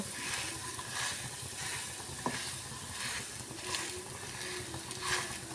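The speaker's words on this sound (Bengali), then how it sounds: "তো এই মশলার সঙ্গে আমি খুব ভালো করে মিশিয়ে নেবো" Boiled, hand-mashed potatoes being stirred into sizzling spices in a pan to make a filling: a steady close-up frying hiss with soft scraping and stirring, and no talk.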